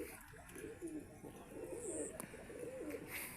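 A pigeon coos softly in a series of low, rolling calls, moderately close over a faint outdoor background, with no talking.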